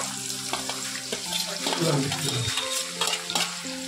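Onions frying in oil left from fried potatoes for a rui fish biryani on a gas stove, a close, busy sizzle with scraping stirs and light clatter throughout.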